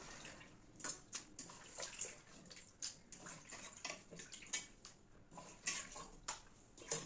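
Chicken pieces being washed by hand in a bowl of water, with repeated splashing and sloshing plus a few light clinks of pieces and dish, heard up close at low level with no talking.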